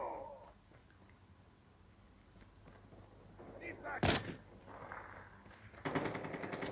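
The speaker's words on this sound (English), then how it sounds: "I can just hear a sniper" A sniper rifle shot in COD Mobile rings out as a single sharp crack in the middle, with other gunfire bursts following, heard amid a quiet background with occasional talk.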